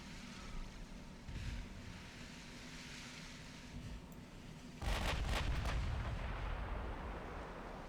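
Heavy naval gunfire booms in Ultimate Admiral Dreadnoughts, a faint distant rumble first, then a loud deep salvo blast midway that lingers as a rolling roar over a steady background of sea and engine noise.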